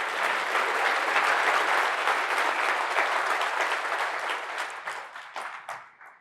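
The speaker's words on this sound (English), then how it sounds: "Can we have a round of applause to them?" An audience at a tech conference awards session breaks into loud, sustained applause for API award winners, the clapping thinning out and fading toward the end.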